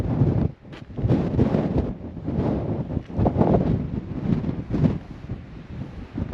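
Strong wind gusts buffet the microphone at an outdoor lunch spot by sea, loch, marsh and pine forest on the NC500 route. The rumble is loud and continuous, rising and falling in gusts.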